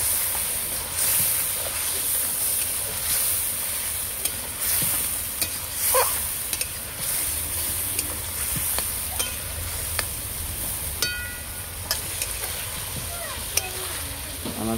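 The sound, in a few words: chilli and cumin powder being stir-fried in a pan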